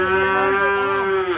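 A single loud, close moo from cattle at a cattle pen, one sustained low tone that holds for over a second and then breaks off.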